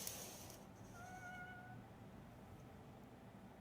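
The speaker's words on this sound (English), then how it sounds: "after hearing what sounds like a cat meowing at their front door" A cat meows at a front door, a faint, distant drawn-out cry heard once over a low background hiss.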